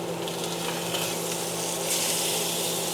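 Steak frying in a pan with ghee just after the first flip: a steady, dense sizzle that carries on evenly and close up, with no talking.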